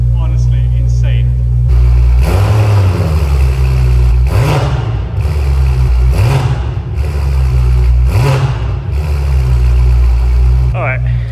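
A BMW M5 F10 on a cold start idles loudly, then blips its engine in four sharp revs spaced a couple of seconds apart, close by with some talking mixed in.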